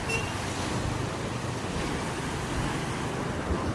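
Rough sea waves roll in a continuous loud wash of surf, with wind rushing across the microphone and no voices.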